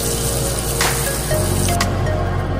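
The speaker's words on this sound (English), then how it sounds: "Once the pan is hot, you will put butter." Butter hits a hot pan and sizzles with a close, steady broadband hiss, with a couple of brief crackling spurts part way through.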